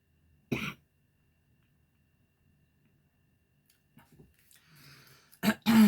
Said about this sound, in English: feel like I could have a cough